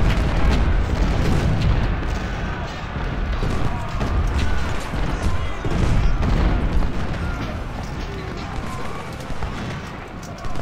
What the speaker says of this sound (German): Kanonen treffen sich da hinten